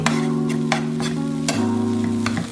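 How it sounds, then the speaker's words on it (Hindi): Finely diced onion going into a hot frying pan, a loud close sizzle with scraping stir strokes, a steady tonal hum running underneath. "जो हमने प्याज को बारीक क्यूब्स में कट किया था वो ऐड करेंगे इसमें"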